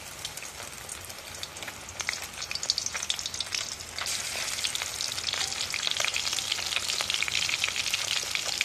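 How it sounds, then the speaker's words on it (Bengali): Steady crackling sizzle of Bombay duck fish frying in hot oil, close and continuous, growing a little louder partway through. "আমি কড়াইতে তেল দিয়ে দিয়েছি, এবার এক একটা করে আমি লোটে মাছগুলো ভেজে নেব।"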